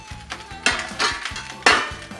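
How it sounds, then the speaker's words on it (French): Onions tipped into a pan of frying salt cod for a rougail morue, giving two loud sizzling bursts about a second apart, with utensil clinks and scraping amid a softer background sizzle. "Maintenant que la morue est bien grillée, on va rajouter nos oignons."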